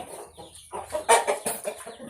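Fighting cocks on a Thai farm give a quick series of close, loud clucks and squawks over a couple of seconds, peaking in a sharp burst midway, with no speech.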